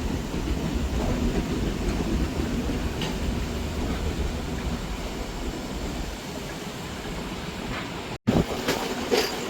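A train rolls along an old colonial-era railway track near Maho station, a continuous rumbling ride with a steady low roar and faint rattling throughout, heard from on board without speech.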